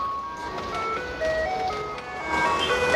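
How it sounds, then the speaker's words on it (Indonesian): A Taiwan garbage truck plays its melodic jingle on the street, a bright repeating electronic tune heard from a short distance over steady rain and traffic hiss. "Begini ya mobil sampah di Taiwan."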